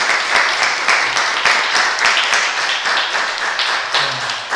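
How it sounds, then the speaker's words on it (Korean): Warm applause of thanks from a congregation at a Sunday church service on a baptism day, a steady dense patter of many hands clapping close by for several seconds. "감사의 박수."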